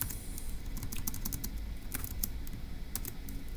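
Quick, uneven clicks of keys being tapped on a keyboard while noting a Turing Machine puzzle clue, faint and close, a scattered patter of light keystrokes with no voice.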